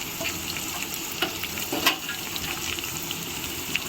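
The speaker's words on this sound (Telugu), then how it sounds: "ఎర్రగడ్డ వేస్తున్నాను" Two large onions go into hot oil for a tomato pulusu, setting off a loud, continuous sizzle and crackle close by, with small spoon scrapes and no talking.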